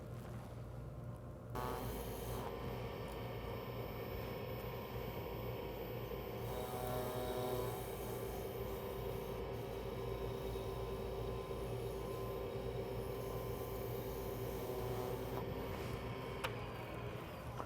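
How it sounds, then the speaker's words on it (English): A wooden tulip spins on a lathe while being sanded, giving a steady close whirring hum with a continuous abrasive hiss that holds evenly throughout. "Now I can sand and finish what's turned of the flower before taking the base down any further."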